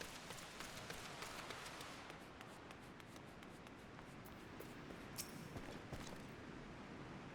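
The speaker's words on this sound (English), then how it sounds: "It just started raining." Steady, dense patter of rain in Final Fantasy XIV: Dawntrail fills the whole stretch, soft and even, with occasional sharper drops.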